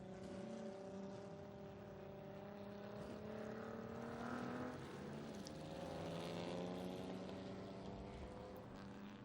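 Historic race cars and a safety car drive around the Estoril circuit, their engines droning and rising in pitch at a distance, a steady layered roar of several cars passing through.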